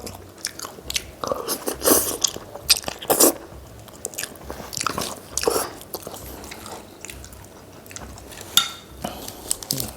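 Close, crisp crunching bites and chewing while eating mee kati, a Thai coconut-milk noodle dish, with crisp fresh vegetables, coming in irregular bursts between quieter chewing.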